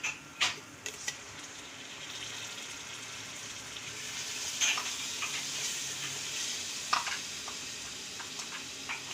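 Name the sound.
tomatoes frying in a pan for fish biryani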